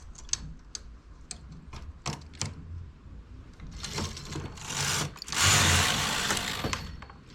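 Knitting machine working plain stockinette rows for a baby hat with two strands of fine industrial yarn at tension setting 6, giving repeated sharp clicking passes that build into a louder, sustained rushing carriage sweep near the end.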